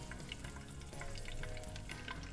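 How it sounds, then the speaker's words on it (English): Garlic and parsley sizzling in oil in a pan, a steady soft crackle and spatter throughout, fairly quiet with no talking. "While the oil is gently frying"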